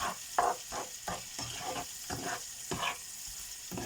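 Prawns frying in butter in a pan, a close, steady sizzle broken by rhythmic scraping strokes as they are stirred, with no one talking.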